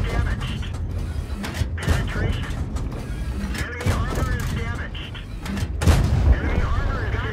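Tank cannon fire and mechanical clanks in World of Tanks, several heavy booming shots amid constant engine rumble and game noise, with a voice talking over it.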